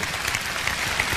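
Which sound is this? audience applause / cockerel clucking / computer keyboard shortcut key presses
audience applause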